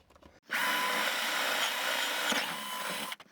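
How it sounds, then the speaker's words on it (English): Power drill boring a hole through wood for a wire on a model railroad layout, one steady loud whine that starts abruptly, holds for about three seconds with slight load changes, then stops. "Okay, so let's go ahead and drill this hole."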